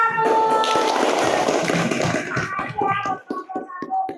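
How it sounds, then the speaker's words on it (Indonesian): A classroom group applauds another group of students, a burst of close, dense hand claps and taps that thins into scattered, uneven claps toward the end. "Tepuk tangan buat kelompok 1."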